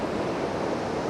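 Ocean waves at a beach make a steady broadband wash of surf, with a windy hiss mixed in and no voices.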